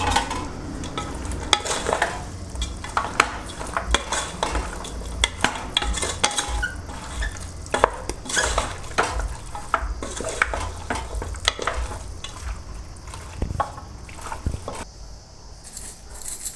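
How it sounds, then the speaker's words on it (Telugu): Chicken curry stirred with turmeric in a pan, busy repeated spoon scrapes and clinks against the metal over a soft sizzle, close and continuous with no talk. "పసుపు వేసుకొని బాగా కలబెట్టుకుందాము."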